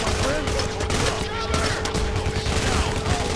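Dense, overlapping gunfire in the video game Payday The Heist, continuous and chaotic shots layered with game noise and someone shouting throughout.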